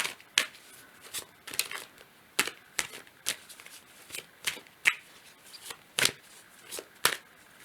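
Tarot and oracle cards are shuffled, slid and snapped down one by one on a table during a timeless reading, giving a close, crisp series of papery flicks and taps in an irregular rhythm with no talking.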